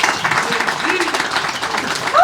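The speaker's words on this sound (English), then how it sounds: "A big hand of applause for him." Crowd at a Holyoke DPW employee appreciation lunch claps for Mayor Joshua Garcia, a brief steady patter of applause with murmuring voices mixed in.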